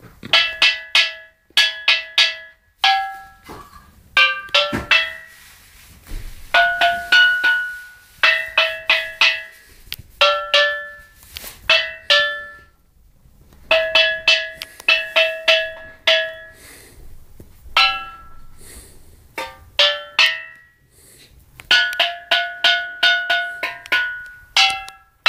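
Steel drums play Jingle Bells solo, bright ringing struck notes in a lively melodic rhythm with short pauses between phrases, close and loud with no voices.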